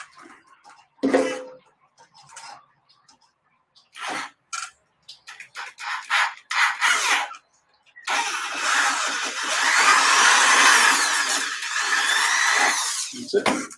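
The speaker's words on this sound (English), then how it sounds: "I'm gonna ream this hole out real quick." A power tool reams out a hole on a two-stroke long-travel sandrail, starting with short stop-start bursts, then running in a sustained, loud, high whining grind for several seconds at close range.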